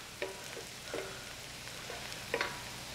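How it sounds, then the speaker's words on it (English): Onions and garlic sauté over lowered heat in a skillet, a quiet steady sizzle with a few soft clinks and stirring bursts, no voices over it. "we're going to lower the heat and let the garlic cook for another minute or two in with the onions"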